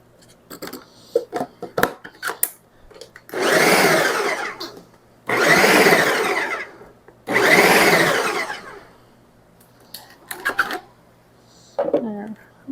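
A food processor chops tomatoes and vegetables for salsa in three loud whirring bursts of a few seconds each, separated by quieter pauses with occasional clatter.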